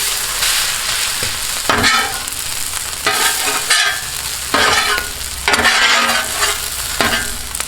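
Breakfast sandwich food sizzles loudly on a Blackstone griddle, a constant hot fry broken by several sharp bursts of scraping and flattening with a spatula, close and unaccompanied by talk.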